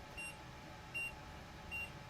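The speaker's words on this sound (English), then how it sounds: "You hold it till it beeps." Three short, high electronic beeps from an automatic hair curler, evenly spaced, faint against a steady background hiss.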